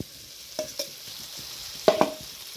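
Fried potatoes stirred into cooked spice masala in a pan, with a few distinct scraping stirs against a low, steady sizzle, moderately close and without talk.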